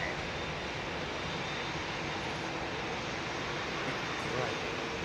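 An airliner lands at London Heathrow in the dark, giving a continuous, even wash of engine roar at moderate distance with no break.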